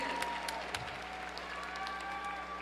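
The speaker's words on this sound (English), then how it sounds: "So family, friends, please give yourselves a round of applause" Families and friends at a university commencement applaud, a soft, distant patter of clapping from a large hall under a low steady hum, with a few crisper claps near the start.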